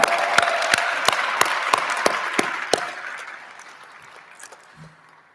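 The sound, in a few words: round of applause for a performance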